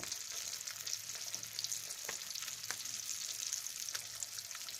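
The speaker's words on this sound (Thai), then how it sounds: "ทอดปลาก่อน ทอดปลาสุกแล้วค่อยกิน" A whole Mekong river fish, scales on, fries in a pan of hot oil. It sizzles steadily and close with sharp crackles and pops, and no one speaks.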